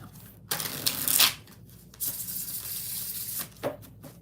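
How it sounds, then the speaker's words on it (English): Tarot cards shuffled in bursts of riffling, crisp papery flutters separated by brief pauses, close and fairly quiet with no talk. "3 more shuffles."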